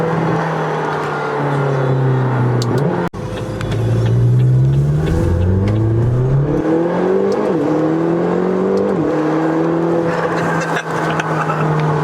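A McLaren GT sports car with a seven-speed dual-clutch gearbox accelerates hard, its engine note climbing through several quick upshifts with brief dips between gears, loud and close from inside the cabin.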